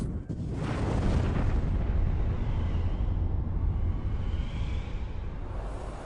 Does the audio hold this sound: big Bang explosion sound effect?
yes